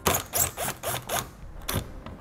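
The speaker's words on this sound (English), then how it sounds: "we'll find a T20 Torx screw to remove." A ratchet clicks in quick repeated bursts while backing out a T20 Torx screw on a 2018 Buick Enclave, close and crisp, with short pauses between strokes and no speech.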